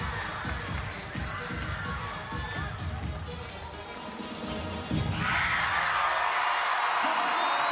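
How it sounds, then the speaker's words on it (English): A crowd at a college gymnastics meet between Arkansas and Florida cheers and whoops, steady and busy at first, then swelling louder and brighter toward the end, with voices mixed into the noise. "The crowd's excited about it."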